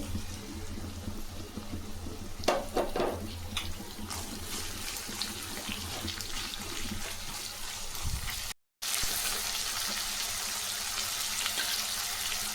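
Onions and cumin fry in hot oil with a constant crackling sizzle, and a tomato drops in with a brief wet burst of spattering. The frying continues steadily afterward, with no talk.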